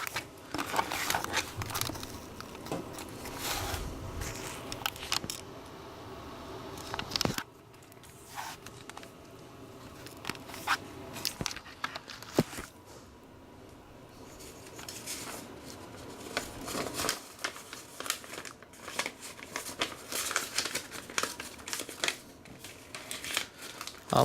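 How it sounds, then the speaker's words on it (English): Paper documents being handled and folded together, with soft crinkling, rustling and creasing sounds in short bursts, quiet and close, with no talk. "I can place these two documents together and fold them nicely."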